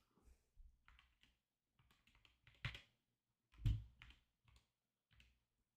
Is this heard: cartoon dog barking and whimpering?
no